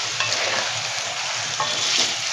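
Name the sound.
stirring and frying kadai chicken in a pan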